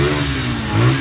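A Suzuki Gixxer GP-2 motorcycle engine runs steadily nearby, its low, continuous mechanical rumble swelling into a brief rev near the end.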